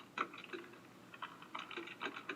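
Computer keyboard typing in irregular bursts of light, quick clicks, faint and close, with short pauses between runs of keystrokes.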